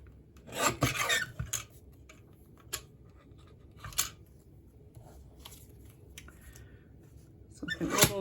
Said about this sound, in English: But you can do this on your trimmer.